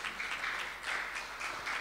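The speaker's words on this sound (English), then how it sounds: "Give Kate a round of applause as she comes." Church congregation applauding during a Sunday service livestream, a soft, steady patter of many hands clapping, distant and fairly faint, with no talk over it.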